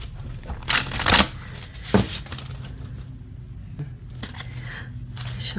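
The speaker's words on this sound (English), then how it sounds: "Shuffle one more time." Oracle cards with a green metallic edge are shuffled by hand in several quick riffling bursts, close and crisp, with quieter handling between them.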